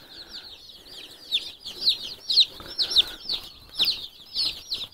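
Young meat chicks in a brooder under a heat lamp give repeated high, quick peeping clucks, several bursts per second, close and fairly soft, with no talking.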